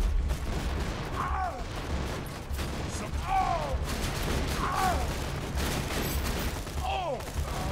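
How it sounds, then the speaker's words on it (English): Rocket launcher fire in a shooter game set on Pandora: repeated whooshing launches with chirping, descending sweeps, roughly four shots spaced a second or two apart over a steady rumbling game background. "I'm gonna get my rocket launcher gun out"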